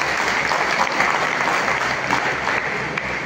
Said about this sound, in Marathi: जैन साहेबांसाठी आणि आमचे मित्र पुठारी साहेबांसाठी जोरदार एकदा टाळ्या तुम्ही वाजवा